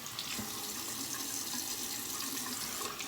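Tap water runs steadily into a sink while a razor is rinsed during a wet shave, a continuous close splashing hiss with no talking.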